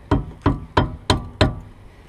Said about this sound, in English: Worst case, hit them with a plastic hammer, not a metal hammer though.